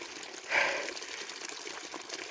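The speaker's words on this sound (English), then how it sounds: "There's the water coming out." Water gushing and splashing steadily out of drained cellar pipes in a cottage during a winter freeze, a continuous moderately loud rush with a brief surge near the start and no talking.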